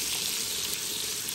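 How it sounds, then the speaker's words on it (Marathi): Garlic fries in a pan with a steady, close hiss of sizzling oil, unbroken and free of voices. "आता लसूण टाकलं आहे ह्याच्यात."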